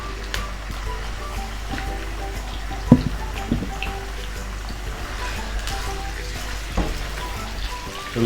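A kilo of chicken fries in hot oil, giving a steady low sizzle with soft crackles and occasional sharp pops throughout, close and unbroken.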